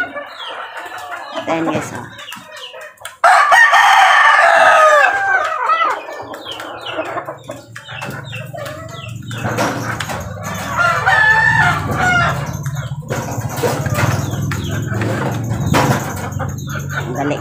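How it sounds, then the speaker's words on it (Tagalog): Pet chickens and chicks cluck and chatter close by while a rooster crows loudly, all under a person talking to them at feeding time in the morning. "Excited na yung aking sisiw"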